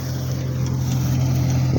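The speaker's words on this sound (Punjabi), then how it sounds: "ਵਧੀਆ ਐਨ ਹੱਸ ਕੇ ਖਿੱਚ ਰਿਹਾ ਟਰੈਕਟਰ" A tractor pulls a harvesting reaper through a field after rain, its engine droning steadily and loudly with a constant low hum and some wind noise.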